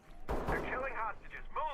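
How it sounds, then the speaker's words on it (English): Distant gunfire in a dark tactical shooter video game: a sharp burst of shots early on, then tonal, wavering sounds trailing off over the remaining second and a half. "you can hear gunshots in the distance and civilians can die"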